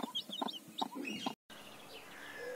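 Hens clucking in a Santal farming village in the Ajodhya hills of Purulia, West Bengal: several short, close clucks in a loose rhythm, a brief silent cut, then softer bird calls against quiet background noise.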